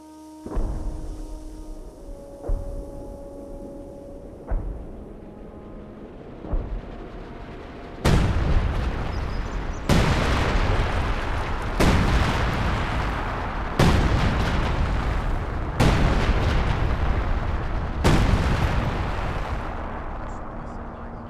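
Heavy artillery booms in Company of Heroes 2 crash in a rapid series of loud, evenly spaced blasts, following quieter tonal sounds and softer thuds at the start.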